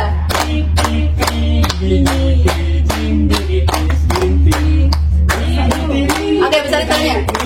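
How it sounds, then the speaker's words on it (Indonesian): A classroom group claps on cue in a steady, even rhythm of loud unison claps over a constant low hum, sounding close and filling the whole stretch. "Tepuk tangan aja ya, boleh ya."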